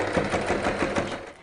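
A sewing machine stitches the edge of a rice-filled lavender fabric heat pack, a rapid, even mechanical chatter heard close up that fades slightly at the end.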